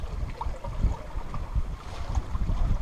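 A sailboat motors along at about five and a half knots off the eastern coast of Corsica, its engine drone blending with steady wind buffeting and water rushing past the hull, continuous and fairly loud.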